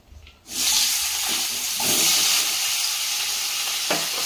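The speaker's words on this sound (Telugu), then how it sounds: "ఇలా చేసుకున్న పన్నీర్ ముక్కల్ని ఆయిల్లో అయితే ఫ్రై చేసుకుందా" Paneer pieces dropped into hot oil burst into a loud, steady sizzle that holds strong for several seconds, with faint clinks of a utensil, and no talking.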